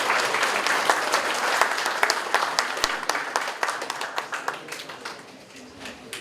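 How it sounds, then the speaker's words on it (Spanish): Audience at a civil engineering conference applauding to welcome a speaker, a dense burst of many hands that thins into scattered individual claps and fades out. "un fuerte aplauso por favor para darle la bienvenida al ingeniero Daniel Alejandro Padilla."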